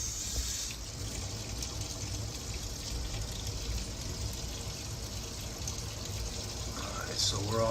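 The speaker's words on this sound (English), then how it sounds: "Go ahead and turn the water on." Water runs steadily through a repaired pipe after a leak fix, a soft continuous gushing hiss, fairly faint, with a voice speaking over it.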